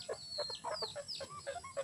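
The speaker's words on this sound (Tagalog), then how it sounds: "yan po yung mga alaga nating manok" Pet chickens cluck in a rural backyard, a run of short, fairly faint clucks and squawks spaced through a couple of seconds.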